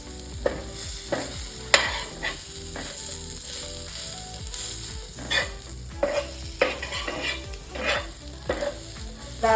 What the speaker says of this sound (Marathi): धने कोबरं काजू तेलामध्ये चांगले तळून होत आहे